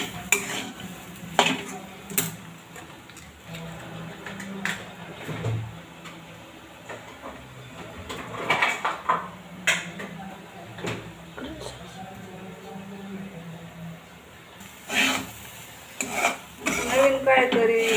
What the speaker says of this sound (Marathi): छान असं तुकडं परतायचं चाललंय